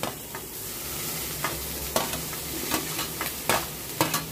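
Sago pearls and spring onion sautéing in a pan on a low flame for white sorghum upma: a soft, steady sizzle broken by scraping stirs every second or so, close by, with no talking.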